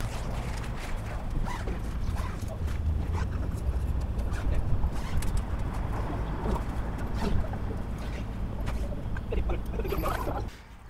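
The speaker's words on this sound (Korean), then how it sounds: "전면을 개방해 보겠습니다." The front panels of an IDOGEN cabin tent being opened, with toggle buttons undone and fabric handled in a rapid series of rustles, flaps and small clicks, close by for about ten seconds, then falling quiet.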